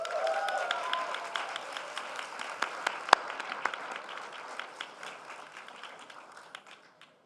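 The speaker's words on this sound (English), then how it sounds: "please give me a round of applause in welcoming Taylor Allen to accept this awa" Audience at an award ceremony gala applauding as an honoree is welcomed to the stage, a sustained wash of clapping that starts loud and gradually thins out and fades.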